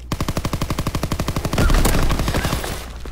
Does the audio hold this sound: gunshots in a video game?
yes